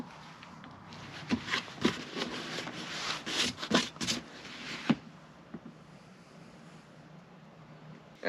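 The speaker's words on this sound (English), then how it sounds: "And now we're just cleaning out the ash because it's building up with too much ash in it." Ash is scraped and scooped out of a homestead wood stove in short, close rubbing and scraping bursts, a rough gritty rhythm for several seconds before settling into quieter rustling.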